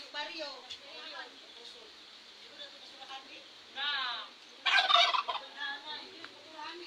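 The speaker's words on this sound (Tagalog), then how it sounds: "Ito yung mga pato natin." A flock of ducks kept together calls in short, nasal bursts that come and go, one louder cluster near the end, with people talking over them nearby.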